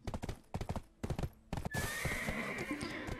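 Horse in the online role-playing game Black Desert Online, with a few quick bursts of clip-clopping hooves followed by a loud, sustained whinny, close and alone with no talk.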